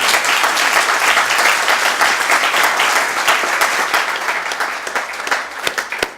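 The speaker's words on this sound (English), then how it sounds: "So another round of applause for them." A city audience in Santa Monica applauds guest experts, a loud, sustained wash of clapping from a sizeable crowd that tapers off near the end.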